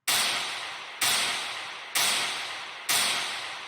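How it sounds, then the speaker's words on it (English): Clap samples in the break of an electronic track sound four evenly spaced hits, about one per second. Each is a bright, noisy burst with a long reverberant tail that fades before the next. "And these claps sound like this."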